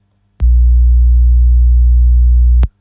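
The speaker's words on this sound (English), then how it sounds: "So it's basically a 60 hertz sine wave." A steady, deep low hum, a pure 60 hertz sine wave tone held at constant loudness for about two seconds, starting and stopping with faint clicks.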